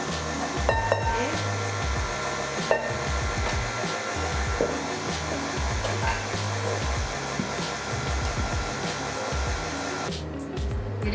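An electric mixer on low speed beats chocolate cake batter made with cocoa powder. It gives a steady, continuous whir that runs unbroken for the full length, close and fairly loud, and the motor note shifts near the end.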